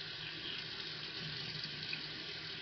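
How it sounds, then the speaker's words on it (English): Hot water running steadily from a tap in a bathroom, a constant low hiss and splash at moderate distance, faint and even throughout with no voices. "Careful with the hot water."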